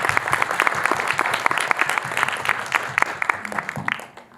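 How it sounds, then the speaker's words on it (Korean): Audience and fans at a film screening Q&A at a cinema clapping in a lively, crackling burst of applause that continues steadily before tapering off sharply at the end. "관객 팬들께 박수를."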